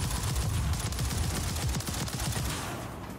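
Sustained rapid gunfire from a Zombie Royale shooter match rattles continuously and loud for the whole stretch, a dense stream of shots fading slightly at the end.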